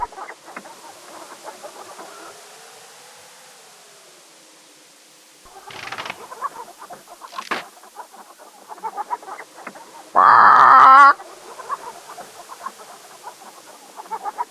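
Game chicken clucking in King's Quest III Redux, a few short clucks and squawks over quiet background music, with one loud burst standing out near the end.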